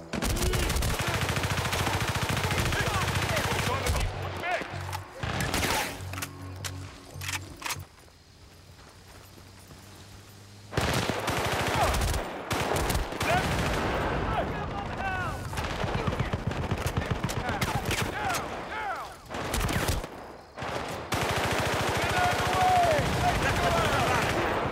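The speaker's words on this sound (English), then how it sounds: "Light machine guns!" Light machine gun fire in the Xbox 360 game Battlefield Bad Company, with loud sustained bursts and rattling volleys that drop out briefly before resuming, over a dense battle din.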